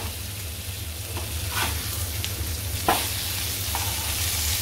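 Bangda mackerel frying in a pan over medium heat, a steady broadband sizzle with a few soft scrapes and a sharp clack as a piece is flipped partway through, close and continuous with no talking.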